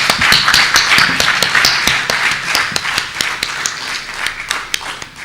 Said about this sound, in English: I'd like to invite you to join me in giving one more round of applause to our debaters.